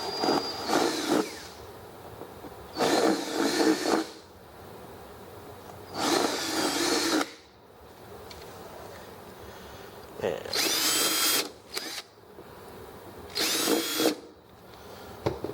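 A power drill runs in several separate bursts of a few seconds each, cleaning out holes in a case handle by boring in from the back side. Quiet gaps fall between the runs, with no talk over the drilling.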